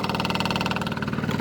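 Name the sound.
two-stroke off-road motorbike engine idling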